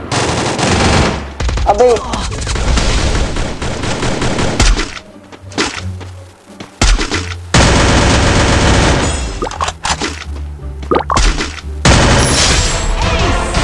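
VSS rifle gunfire in a shooting video game, long bursts of rapid automatic shots, loud and close, broken by short pauses and a single brief spoken exclamation.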